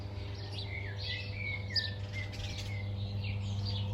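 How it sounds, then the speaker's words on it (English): Small birds chirp and twitter in quick, bright calls over a low, steady hum. "these birds keep pooping on the curtain"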